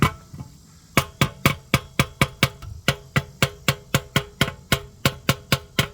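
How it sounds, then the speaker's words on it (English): Loud, sharp hammer strikes on the metal lower damper of a Weber kettle grill to loosen it, around twenty in quick steady succession, each ringing briefly, after a short quieter pause at the start. "few whacks with a hammer"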